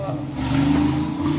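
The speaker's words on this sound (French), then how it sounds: "Comme on est au bord de la route, il y a toujours les voitures qui passent." Car noise drifts in from the road outside an open kitchen window, a faint continuous engine rumble under soft background sounds.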